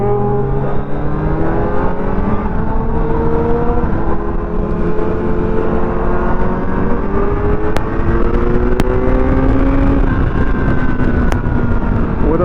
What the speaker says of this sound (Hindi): जो एग्जॉस्ट है वो आफ्टर मार्केट है, तो उसकी साउंड आपको सुनने को मिलेगी